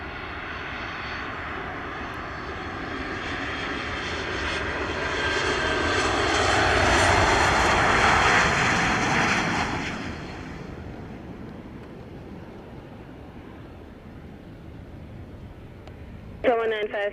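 A Cessna 206 single-engine airplane flies past at an airport, its propeller drone swelling to a loud roar mid-pass, then fading with wind noise before a brief voice at the end.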